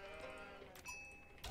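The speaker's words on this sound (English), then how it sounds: "I know there's sheep about" Sheep bleat in the real-time strategy game Age of Mythology, a faint wavering in-game call over a low background hum with a soft thump at the end.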